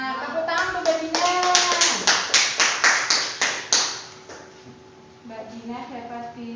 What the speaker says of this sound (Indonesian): Tepuk tangan untuk Mbak Dina